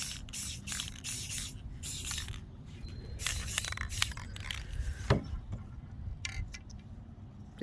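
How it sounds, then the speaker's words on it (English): Light bursts of spray primer misting onto models, in several short hissing puffs with pauses between them, close and fairly quiet. "again, very, very gentle sprays. I don't want a lot of paint on this."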